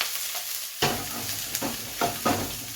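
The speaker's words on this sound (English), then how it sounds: "Add in some sesame oil as well. And just give it a little mix." Vegetables and spring onions are stir-fried with sesame oil over high heat for chow mein, a close sizzle broken by a few quick spatula tosses and scrapes in the pan.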